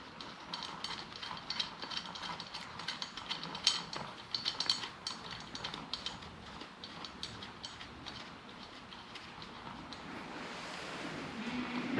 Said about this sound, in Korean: 나머지 볼트 체결해 주시고